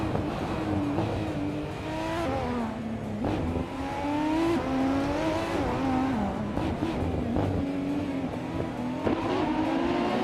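Race cars in a racing video game roar continuously with engine whine rising and falling through gear shifts, several cars dueling closely, loud and steady throughout with no voices.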